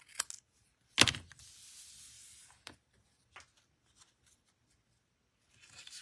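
Craft material trimmed for a handmade card project, a couple of sharp snips followed by a soft, sustained rustling slide, then a few faint clicks and a brief rustle at the end, close and quiet without talking.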